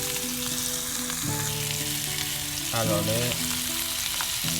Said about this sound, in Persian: پوسته پرتقالا یه تفت ریزی میدیم تو روغن.